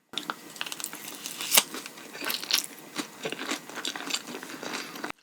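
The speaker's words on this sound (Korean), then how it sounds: "그럼 마라 맛을 또 먹어보도록 하겠습니다" Chewing and biting of mala-flavored noodles, close and crunchy, with irregular wet mouth sounds and soft crinkles over several seconds, no talking.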